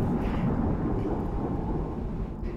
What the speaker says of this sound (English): the thunder just got loud